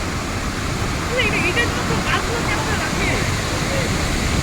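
Waterfall near Jagdalpur throwing up mist-like spray, a constant broad roar of falling water heard close, with faint voices in the background.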